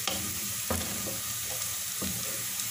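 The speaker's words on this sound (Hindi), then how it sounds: "इस प्याज को चम्मच में हिलाती रहूँगी और इतनी देर तक मैंने इस प्याज को पकाना है" Chopped onions fry in hot oil with a dense, continuous sizzle, broken by several scraping clicks of a spoon stirring them in the pan, close and alone without talk.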